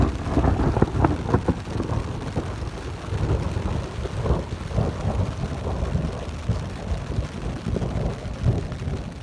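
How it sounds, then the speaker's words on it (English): Heard from inside a tent on the Colorado Trail during a mountain storm, low thunder rumbles and rolls under steady rain pattering on the fabric nearby. "it's been thundering for almost probably at least an hour and a half now"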